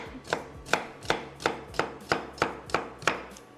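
A knife makes a rough chop through broccoli for a cream of broccoli and leek soup: nine crisp, evenly spaced strikes on the board, close and clear with no talking.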